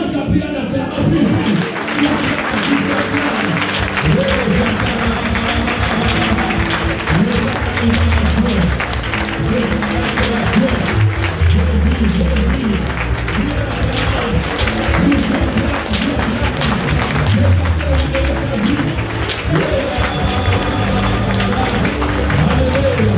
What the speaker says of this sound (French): Commence à prier en acclamant.